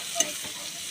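Chopped onion frying in a pan gives a faint, brief hiss with one small stirring scrape, no voices.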